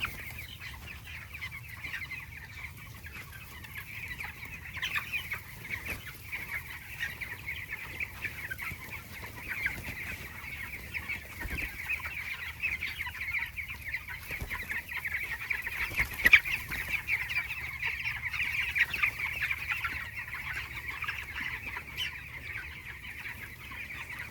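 Many chickens cluck and murmur softly throughout in a farm shed, a steady low chorus of fowl with a faint mechanical hum in the background.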